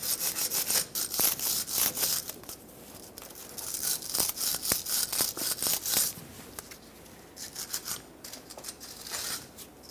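A wire brush scrubs debris off a 2008-2010 Ford F250 Super Duty rear differential near the ABS sensor, in quick rasping back-and-forth strokes, close and steady, with brief pauses.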